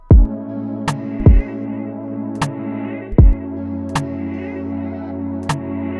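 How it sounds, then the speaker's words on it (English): A hip-hop beat of hard-hitting, booming kick drums at a slow tempo, with sharp swelling reversed hi-hat hits sweeping into the beats over a sustained low tonal bed. "you hear them hard hitting drums with them reversed hi-hats"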